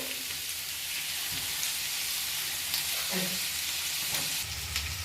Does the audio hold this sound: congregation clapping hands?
no